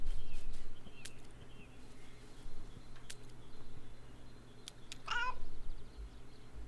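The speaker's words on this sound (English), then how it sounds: "Cautious meow." A cat in Kentucky Route Zero gives a short, rising meow partway through, mid-loud over a quiet outdoor night ambience of faint insects and soft scattered clicks, with no voices.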